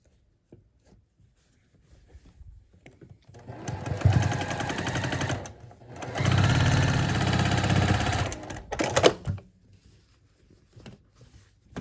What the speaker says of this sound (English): now we're going to sew the last 2 seams of the block